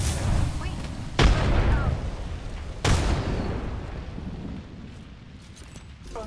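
Thermite grenades go off in a video game firefight, two heavy booming blasts a couple of seconds apart over a dense rumbling battle bed that slowly fades.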